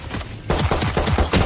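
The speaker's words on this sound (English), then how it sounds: "Placing swarm grenade." In Valorant, Killjoy's swarm grenade sets off a rapid string of loud, punchy bursts in close succession, following a short quieter lead-in.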